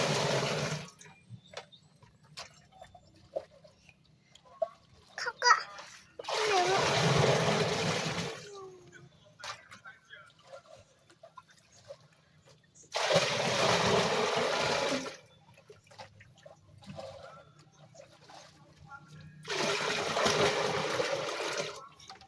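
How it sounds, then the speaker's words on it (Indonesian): Water gushes into a basin being filled with about 50 liters for making a soil conditioner, in three loud bursts of pouring separated by quieter stretches with soft clatter and brief speech. "kita isi airnya di baskom ini kurang lebih 50 liter ya"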